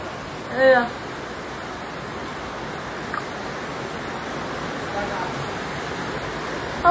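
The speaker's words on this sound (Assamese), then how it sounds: "এতিয়া হঠাতে আহি গ'ল ইমান দবা পিটা বৰষুণ" Dense, steady roar of heavy rain pouring down, continuous broadband noise with a brief voice near the start.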